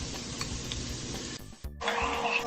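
A soy sauce and oyster sauce mixture hits hot butter in a pan and sizzles steadily, then cuts out briefly before a louder, hissing burst of frying resumes.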